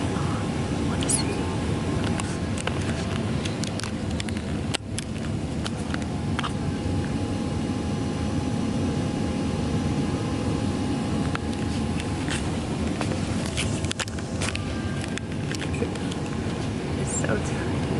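A constant broadband drone fills the cabin of a small propeller airplane in flight, a steady loud hum and rumble throughout with scattered faint clicks and rustles and no clear talk.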